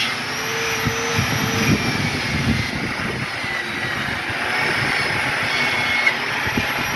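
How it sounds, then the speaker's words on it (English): Angle grinder scouring rust off a cracked steel trailer A-frame ahead of welding, a steady, dense abrasive whine with gritty rumble running continuously and close for the whole stretch. "We're going to grind this out so we can weld in a piece of steel"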